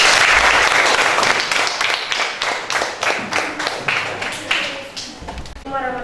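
A group gives a classroom presentation team a burst of clapping. Dense, loud applause at first, then it thins into separate claps that fade out, with a voice speaking near the end.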